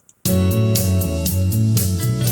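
A Band-in-a-Box backing track plays with every note straight on the beat, a loud, full arrangement of bass and chords pulsing in an even, rigid rhythm after a brief silence.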